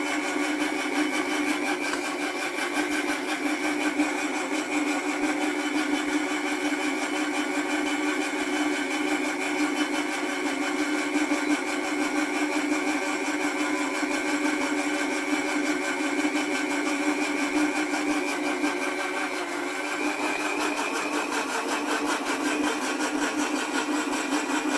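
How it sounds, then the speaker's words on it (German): A blender runs at full power with a steady, unbroken whir, mixing a barley grass smoothie, loud and close throughout with no talk over it. "Jetzt gibt er richtig Gas. Jetzt gibt er erst richtig Gas."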